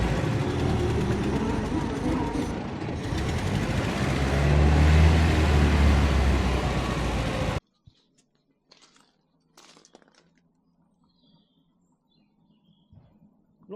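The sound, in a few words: 1920s vintage car engine running, overheating and bubbling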